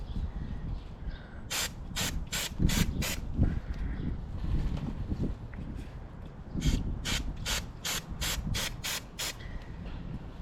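A bicycle chain and freewheel being rotated during cleaning, giving soft ratcheting and rubbing under bursts of spray, with two clusters of sharp hissing sprays near and close.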